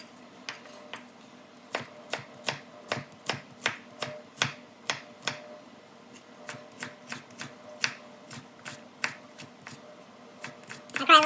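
A knife finely chops half an onion on a board in a rapid, steady run of crisp close taps that stops briefly partway before resuming.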